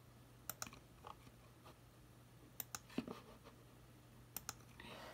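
A computer mouse clicks a few times, in short sharp pairs spaced seconds apart, quiet and close over a low steady hum.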